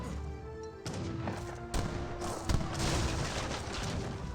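Musket volleys crackle through a busy Age of Empires 3 battle, dense overlapping gunfire with a few heavier thumps standing out, steady and fairly loud throughout with no voices.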